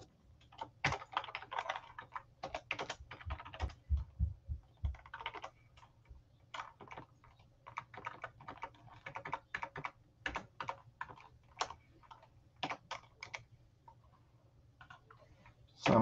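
Fast, irregular typing on a computer keyboard while writing code, with bursts of clicky keystrokes and short pauses over a low steady hum, close and fairly quiet, with no one talking.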